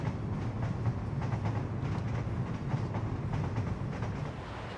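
Trams rolling along rail tracks in the city-building game Workers and Resources, a steady low rumbling with faint clattering wheel noise, moderately distant and continuous, with no voices.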